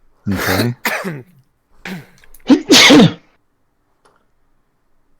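A person sneezes loudly and close, preceded by a couple of short breathy throat sounds, then a brief spoken word before the clip falls silent.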